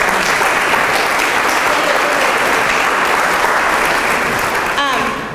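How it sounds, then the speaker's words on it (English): A breakfast community meeting audience gives a loud, steady round of applause from many hands that tapers off at the end as a voice begins to speak. "Let's give them the round of applause."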